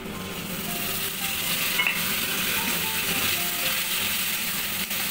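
Spice paste for jhal prawns hits a hot pan and sizzles steadily, a constant frying hiss with faint stirring scrapes, no talking.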